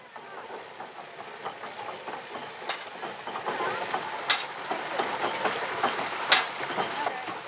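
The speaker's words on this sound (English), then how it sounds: "A popular attraction is the original mine machinery, kept in working order" Original steam-era mine machinery kept in working order runs with a steady mechanical hiss and rattle, broken by sharp clanks and knocks, at moderate distance with no talk.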